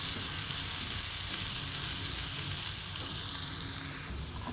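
Bell pepper curry sizzling in a pan with black chili powder, turmeric and red chili, stirred as it cooks: a faint, steady frying hiss with soft stirring, close by and without talk.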